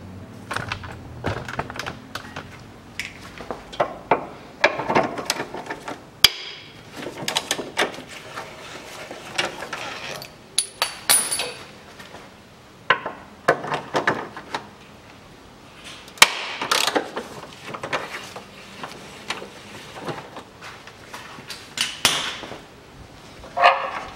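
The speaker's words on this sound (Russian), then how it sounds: "Упор поставили и откручиваем эти болты." Ratchet wrench loosening the transfer case bolts on a 2008 Mitsubishi Pajero 3.2 litre during an automatic transmission oil change, with repeated quick clicking bursts and metallic rattles close by, no talking.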